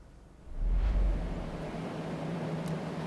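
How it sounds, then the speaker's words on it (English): Blue air-mover fans run inside a fire- and water-damaged building, a loud, constant broadband whoosh with low rumble that swells early and then holds steady, close by and with no talking. "There are numerous of these little blue fans throughout the building right now, trying not only to tackle some of that water damage"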